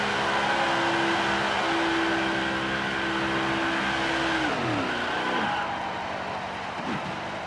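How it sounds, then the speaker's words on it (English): A NASCAR race car in NASCAR Heat 5 spins through a burnout at Darlington, its engine holding a steady loud drone before the pitch dips and wavers as it slides, then fades slightly toward the end. "now we're going to send it spinning, burning it down the front stretch"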